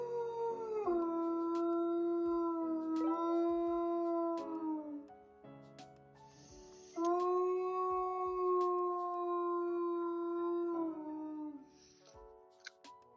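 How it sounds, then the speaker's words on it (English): A dog howls in long, sustained wavering tones, several drawn-out howls in sequence with brief breaks between, close and fairly loud, with no talking. "Oh yeah, they can definitely howl."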